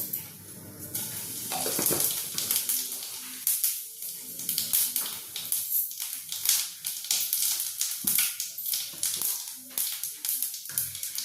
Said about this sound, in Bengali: এবার আমি তেলটার মধ্যে গোটা জিরে ফোড়ন দিয়ে নেব